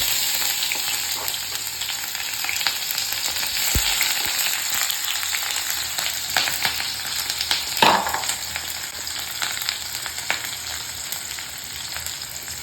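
Onions frying in a pan with dried red chilies, a steady dense sizzle running throughout, close and loud, with a few brief knocks and scrapes in the middle.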